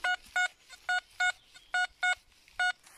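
A metal detector searching over buried aluminium gives a series of about eight short, clean electronic tones, each a brief pulse with pauses between, fairly faint and heard on its own.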